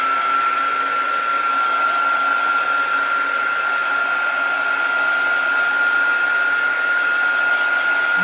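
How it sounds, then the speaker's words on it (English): A quick dry heat tool blows across chalk paint with a continuous, loud, close whoosh and a steady high whine, unbroken throughout and with no talking. "So let's get our quick dry tool here and give it a quick dry."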